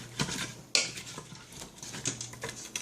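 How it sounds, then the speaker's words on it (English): A utensil scrapes and clinks against the pot while stirring garlic mashed potatoes in an Instant Pot, giving irregular soft taps and one sharper knock over a faint steady hum. "Now I'm going to stir it up just to make sure that everything kind of gets even in here"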